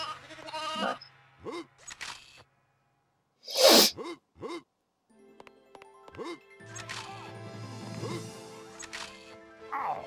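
Sheep bleat repeatedly in the PS1 video game Euro Demo 80, several short wavering calls spread across the scene alongside a burst of noise, game tones and music.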